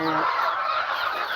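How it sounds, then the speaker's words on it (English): Chickens cluck in a short, close burst on a farm where turkeys are also kept, a quick fowl call with a fainter voice in the background. "You got 2 turkeys and how many chickens, Wyatt?"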